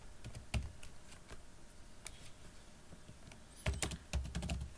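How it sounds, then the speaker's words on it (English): Bursts of keyboard typing, clusters of clicking keystrokes separated by a quiet pause, close and fairly soft. "I'm just repeating what I'm typing"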